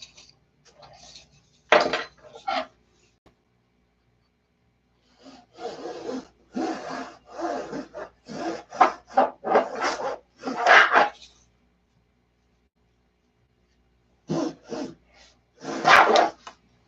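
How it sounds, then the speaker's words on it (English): A P-47 model is sanded by hand in short bursts of scratchy rubbing, close and fairly loud, separated by quiet pauses. "Get that all sanded up real nice."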